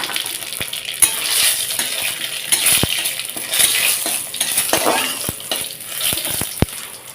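Bay leaf, whole cumin and radhuni sizzle steadily in hot oil for a Bengali fish curry with bottle gourd, a continuous close frying hiss with occasional sharp clinks of utensil against the pan.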